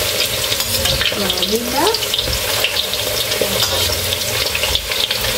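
Pork ribs for curry fry in a pan with a steady, close hiss and crackle of hot oil, along with occasional stirring scrapes, while someone speaks briefly over the sizzle.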